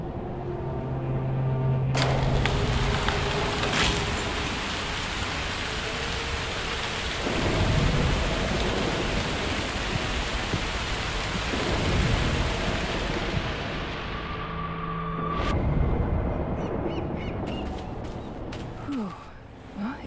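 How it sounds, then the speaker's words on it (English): A thunderstorm rages in the Broken Pieces game, with steady heavy rain hissing throughout and several loud thunder cracks and rumbles rolling in, the rain easing toward the end. "A storm could help."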